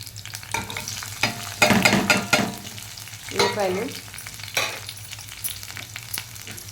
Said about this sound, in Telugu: జీలకర్ర అన్ని పోపు దినుసులు వేసుకున్నానండి.